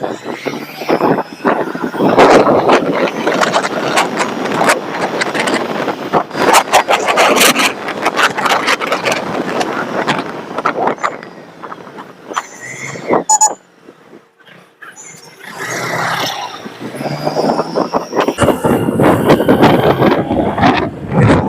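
A Honda Dio scooter with a stalling fault running along the road, its engine and road rush a continuous close drone with wind buffeting, briefly easing midway before picking up again.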